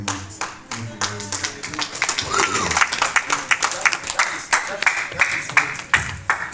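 Audience clapping at a relationship and marriage workshop, a burst of loud claps in quick uneven rhythm spread across the room, with a little talk mixed in.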